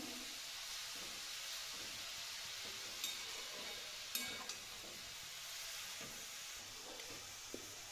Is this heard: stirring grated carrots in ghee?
yes